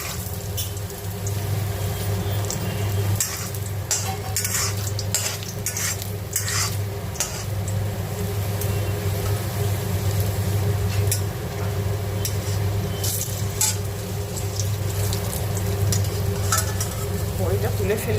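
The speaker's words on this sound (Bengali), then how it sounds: "4টে বড়ি দিলাম, বড়িটা লাল হচ্ছে।" Four lentil dumplings (bori) frying in a pan of oil, a constant close sizzle with repeated scrapes and stirring clicks of a utensil against the pan throughout.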